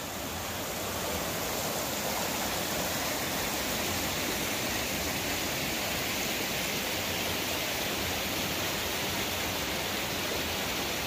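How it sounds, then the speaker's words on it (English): Walden's Creek flows right in front of a mountain cabin near Sevierville, Tennessee, a close, loud, unbroken rush of moving water that holds steady throughout with no voices. "Here's a creek right in front of our cabin. This is Walden's Creek, of course."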